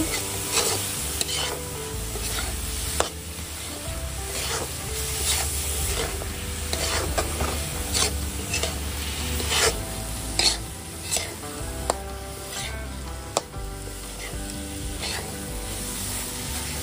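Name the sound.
stirring chhena sweet mixture in pan to dry it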